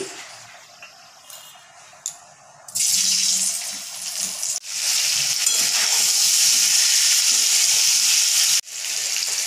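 Potato pieces dropped into hot oil with turmeric in a pan, bursting into a loud, steady hiss and sizzle that holds nearly continuously up close after a quieter start, with a brief break near the end.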